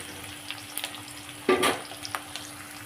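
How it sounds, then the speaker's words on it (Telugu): Raw banana slices sizzle in a hot pan, a quiet steady fry that swells briefly into a louder crackling burst as they are stirred. "ఇది కాస్త వేయించుకుందాం"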